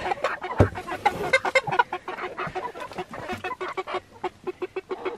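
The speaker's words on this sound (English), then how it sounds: "The chickens are getting settled in for bed" Several chickens cluck and murmur softly at close range as they settle in for the night, a busy, continuous chatter of short notes with occasional louder squawks.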